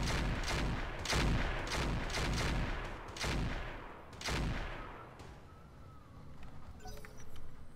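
Heavy mech weapons fire in Roguetech, the BattleTech-based mech strategy game: a rapid series of loud booming shots and bursts, closely spaced at first, then thinning out into rumbling impacts.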